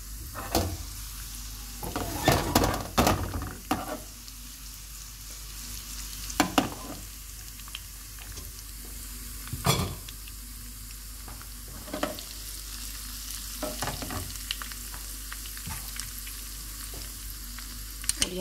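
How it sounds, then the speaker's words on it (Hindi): Dried red chilies, ginger, green chilies and white cumin sizzle in hot oil for a tarka, with a steady close frying hiss broken by sharp stirring clatters and pops. "तो इसमें हम ये सूखी हुई लाल मिर्चें डाल देंगे, अदरक, सब्ज़ मिर्च"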